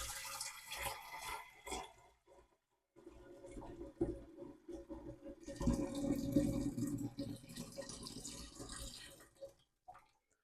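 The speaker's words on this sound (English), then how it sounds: "Pour in your sanitizer." Concentrated sanitiser liquid pours and splashes into a Pinter keg in two bursts, the second longer and fuller, close by and without talk.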